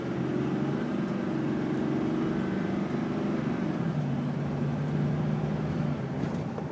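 A 2007 GMC Sierra Duramax diesel 4x4 pickup gives a low, steady engine drone that rises and falls slightly as it is given gas, close by and continuous.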